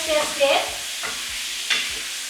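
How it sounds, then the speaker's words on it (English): Beef stroganoff frying in a pan, stirred with a spoon: a low sizzle under a few distinct scraping strokes and clanks, fairly close and moderately loud, with no voices. "Give it a stir."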